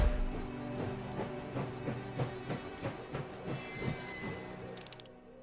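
A train running in the post-war game Last Train Home, wheels beating a rhythmic clack over track joints amid a low rumble, with a brief high squeal and hiss near the end; fairly quiet and without talk.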